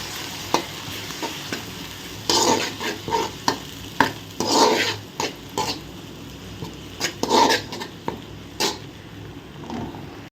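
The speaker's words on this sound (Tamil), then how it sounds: "இப்போ பார்த்திங்களா நல்லா வதங்கிட்டு வருது" Tomato, ginger and green chili paste sautéing in a pan, soft sizzling beneath repeated scraping stirs of a spoon, in irregular short strokes, close and moderately loud.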